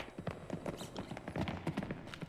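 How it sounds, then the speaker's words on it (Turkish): Rapid, dense footsteps thud and clatter in an irregular rhythm, close and steady throughout, like many feet hurrying across a hard floor, in the video game Kletka. "Ayak sesleri geliyor böyle yoğun bir şekilde."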